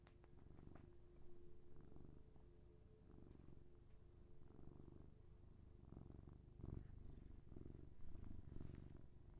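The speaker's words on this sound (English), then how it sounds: "Can you hear the purr?" Cat purring close up, a soft, steady rhythmic rumble of repeated breaths with no talk over it.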